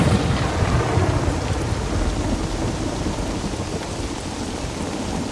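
Heavy rain pours down in a thunderstorm, a dense continuous roar of drops with low rumbling thunder underneath, loud and unbroken.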